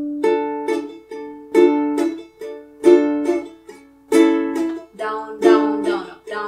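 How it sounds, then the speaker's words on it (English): Ukulele strumming a down, down, down-up pattern in 3/4 time for a song, bright chords repeating in an even waltz-like cycle, close and alone without any talking. "a very simple down, down, down up pattern. So it will sound like this."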